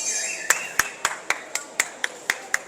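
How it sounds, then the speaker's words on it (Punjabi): Hands clapping in Istanbul's Spice Bazaar, about ten sharp, evenly spaced claps close by, with a faint murmur of voices behind. "ਇਹ ਕਿਹੜੀ ਗੱਲ ਤੇ ਤਾੜੀਆਂ ਵੱਜਦੀਆਂ?"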